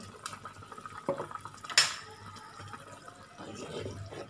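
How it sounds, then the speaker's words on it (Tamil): Coconut paste goes into a pot of boiling rasam for a manathakkali keerai saaru: a couple of clear utensil clacks and a brief wet splash, then a soft simmering hiss and faint bubbling. "நம்ம வந்து தேங்காய் பேஸ்ட்டை போட்டுடலாம்"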